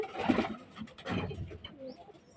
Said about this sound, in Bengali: এটা পায়রা এটা পায়রা